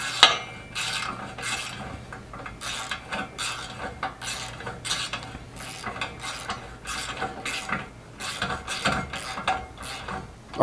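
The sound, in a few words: ratchet tightening bolt on Polaris Ranger brush guard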